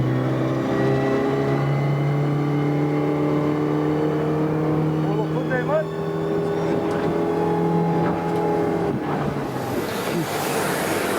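A Suzuki outboard boat engine runs at the factory with a steady, loud droning hum that holds throughout, rising slightly in pitch toward the end, with faint voices mixed underneath.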